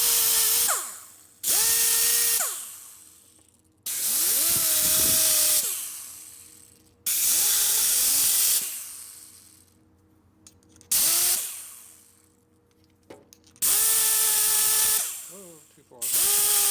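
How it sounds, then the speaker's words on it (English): A grinder on Harley Sportster transmission parts from a 1961 XLCH rebuild whines up in repeated short bursts, each spinning up loud and winding down between pulls, close and with no talk. "Grinder. You gotta get the RPM up for it to work"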